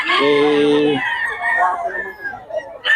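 A gamecock, a bull stag, crows loudly and close by in one long call. A person speaks over and after the crow.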